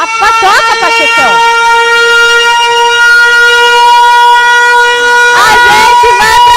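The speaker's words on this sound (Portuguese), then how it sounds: "Toca a sirene, Pachecão." A loud siren wails steadily and close, a sustained droning tone filling the whole stretch, with excited shouting voices bursting over it at the start and again near the end.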